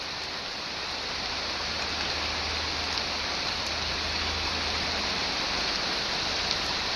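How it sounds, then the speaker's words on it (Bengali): Heavy rain falls steadily on a waterlogged village field, a dense, even hiss of downpour that continues unbroken throughout. "এই দেখো কি বৃষ্টি পড়ছে"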